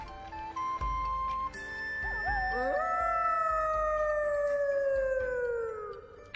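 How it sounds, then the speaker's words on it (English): In the video game Atelier Firis, a monster lets out a long, drawn-out howl that slides gradually downward in pitch. Light chiming game music plays quietly underneath it. "was that a monster howling just now?"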